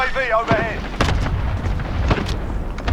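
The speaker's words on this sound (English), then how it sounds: "and then I call the airstrike over there" An airstrike in the video game Warzone, heavy explosions thudding in two or three loud booms over a dense rumble, with a brief tonal game sound near the start.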